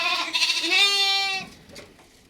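Mylambadi lambs on a farm bleating, one clear drawn-out bleat with a rising then held tone, close and loud, followed by fainter background bleating.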